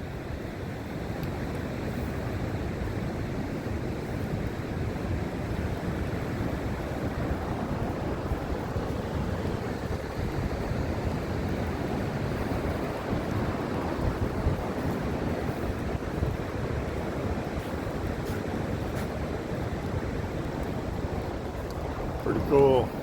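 Ocean surf rolling onto a beach on the Oregon coast beside the Peter Iredale shipwreck, a constant loud rushing wash of waves mixed with wind buffeting the microphone, no clear talk.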